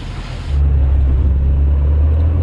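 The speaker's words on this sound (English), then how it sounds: "So this is testing the approach angle of the Porsche" Porsche crawling off-road over steep ground, a close, heavy low engine rumble that swells after a half-second and holds steady as it climbs.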